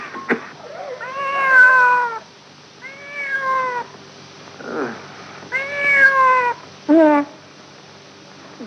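A cat meows over and over in a 1962 Hindi film scene, giving about five drawn-out, plaintive cries close by, with short quiet gaps between them and no talking.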